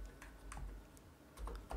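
Soft keystrokes on a computer keyboard as a name is typed into an online trademark application form, a few quiet scattered clicks over a faint room hum.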